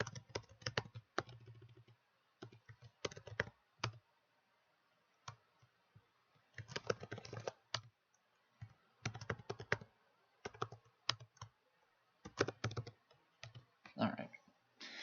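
Names typed on a computer keyboard while setting up a duty calendar: bursts of quick, quiet key clicks separated by short pauses, close-miked in a quiet room.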